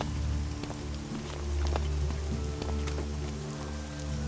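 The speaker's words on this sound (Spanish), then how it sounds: "está lloviendo aún" Steady rain patters over a low continuous hum in the video game ELEX, with scattered droplet taps and no talking.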